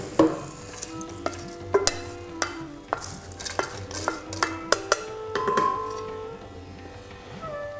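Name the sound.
toasting coconut in a pan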